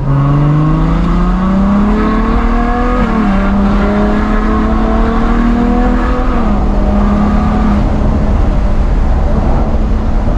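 Ferrari GTC4 Lusso V12 engine revving through a few hard accelerations, a loud, close, rising and falling multi-harmonic howl that climbs steadily with brief dips at gear changes, with no talking.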